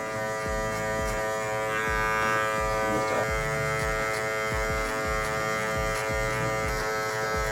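Electric hair clippers with a number 3 guard hum steadily up close during clipper-over-comb cutting, a constant buzzing tone broken by rhythmic, repeated strokes through the hair.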